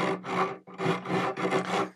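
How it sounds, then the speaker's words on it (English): Rough scraping and rubbing along the edge of a rustic wooden chest being distressed during repair, heard as four close, loud abrasive strokes with brief pauses between them and no talking. "scuffing up the edge here"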